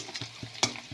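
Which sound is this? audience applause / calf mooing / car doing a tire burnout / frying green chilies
frying green chilies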